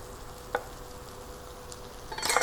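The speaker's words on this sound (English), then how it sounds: "We're going to finish sauteing this down" Onions, apple pieces and cheese sauté in a pan with a faint, steady sizzle, a single stirring scrape partway through, and louder scraping and crackling near the end.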